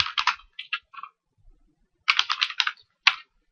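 A search query being typed on a computer keyboard: two quick bursts of close, crisp keystrokes separated by a brief pause, with no voices.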